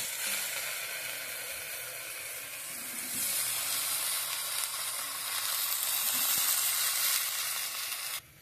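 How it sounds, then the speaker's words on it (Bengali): Brinjal (eggplant) slices fry in a pan with a loud, steady oil sizzle that swells slightly partway through and holds for about eight seconds before cutting off abruptly. "চলো বেগুনটা ভেজে নিই, ভেজে কমপ্লিট করে নিই।"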